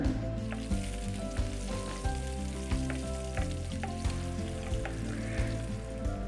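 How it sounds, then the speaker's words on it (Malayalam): Two green chillies sliced into rounds fry in oil with mustard seeds that have already popped, for a sadhya-style inchi puli. The sizzle is steady and close, with regular small crackles and pops and no talk. "കടുക് പൊട്ടിക്കഴിഞ്ഞതിന് ശേഷം ഞാൻ ഇതിലോട്ട് 2 പച്ചമുളക് ഇതുപോലെ വട്ടത്തിൽ അരിഞ്ഞത് ചേർത്ത് കൊടുക്കുകയാണ്."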